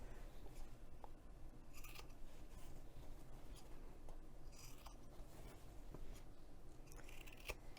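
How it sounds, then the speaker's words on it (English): Scissors trim the fabric overhang on a messenger bag piece, giving a run of soft, close snipping and rasping cuts with brief sharper clicks, steady and fairly quiet with no talking. "So now I'm just going to go ahead and trim the overhang."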